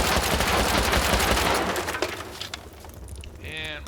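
Rapid gunfire from a semi-automatic rifle firing explosive rounds at a door during a raid in Rust, a loud dense volley of blasts and cracks that tapers off after about two seconds, followed by a brief ringing tone.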